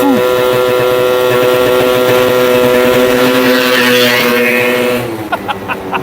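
A Booster scooter's small two-stroke engine holds a loud, buzzing drone pinned against its rev limiter for about five seconds, recorded up close, then drops away into uneven, sputtering pops.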